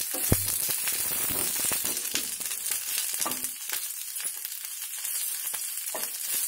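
Spices and curry leaves frying in oil in a pan for a spice powder, a steady bright sizzle with occasional crackles and stirring scrapes, close-up and continuous.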